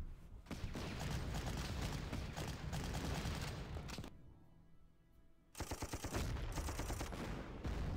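Dense bursts of gunfire and explosions from the World War II strategy game Panzer Corps, loud and continuous, dropping to a quieter lull in the middle before the heavy volley resumes.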